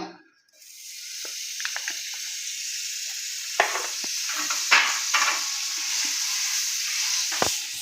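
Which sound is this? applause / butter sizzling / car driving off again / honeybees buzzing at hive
butter sizzling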